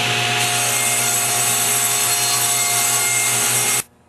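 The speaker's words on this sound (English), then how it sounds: "using a feather board, I will trim off the final 1/16 of an inch" A power saw trims the last sixteenth of an inch off wooden picture-frame molding guided by a feather board, a loud steady whining cut with a rasping edge that runs unbroken, then stops abruptly.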